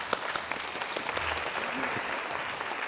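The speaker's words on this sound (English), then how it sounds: "Come on, here, good applause." Audience applause fills the room after a piano performance at a piano festival workshop, a steady dense wash of many hands clapping at moderate volume with a faint voice beneath.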